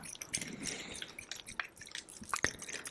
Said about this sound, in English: It was a water jar.